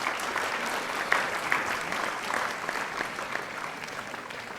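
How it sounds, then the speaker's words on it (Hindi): Dense, steady audience applause at an Urdu poetry symposium during a foundation-day literary gathering, sustained throughout at moderate level with a few sharper claps rising out of the crowd noise. "तालियां तो आप बजाते ही रहें"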